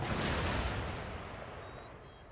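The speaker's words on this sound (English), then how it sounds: "I'm hoping that our artillery can do most of the damage here" Artillery fire in Empire: Total War, heard as a dense, booming rumble of distant cannon volleys that starts loud and gradually fades, with no talk over it.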